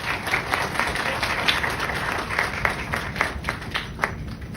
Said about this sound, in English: May I request students to kindly accompany this Green Initiative welcome with a huge round of applause.